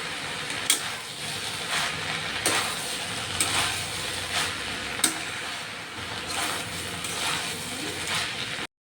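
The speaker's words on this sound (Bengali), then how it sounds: "এবার চিংড়ি মাছগুলো ওপর থেকে দিয়ে দেবো দিয়ে একটু নেড়ে নেবো" Prawns being stirred into a pan of thor chorchori cooking with potato and eggplant, giving a steady loud sizzle with repeated scraping strokes every second or so and no talk.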